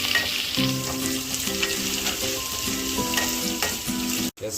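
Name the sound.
onions frying with masala until golden brown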